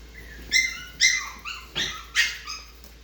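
Five sharp, high yaps from a long-coat chihuahua, close and fairly loud, coming in an uneven rhythm with brief pauses between.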